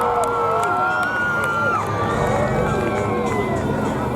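Crowd cheering and shouting at Santa Pod Raceway during a Flames and Thunder drag racing night, a loud sustained roar of many voices with whoops, steady throughout.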